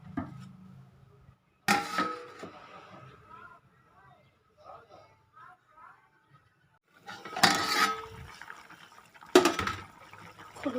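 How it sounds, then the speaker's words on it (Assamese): Fish curry with extra water left to simmer in a pot in a home kitchen, giving soft, sparse bubbling and small liquid pops, interrupted by a few louder clattering bursts near the pot. "এতিয়া এইখিনিতে অলপ ভালকৈ উতলিবলৈ দিম"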